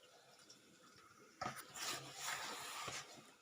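Water is sprinkled by hand onto soft dough while it is kneaded for veg spring roll wrappers, giving short faint splashy bursts over a quiet background.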